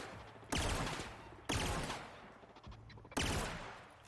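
Enemy gunfire in The Outer Worlds video game: three loud, sharp shots spaced about a second apart, each with a short echoing decay, and no speech.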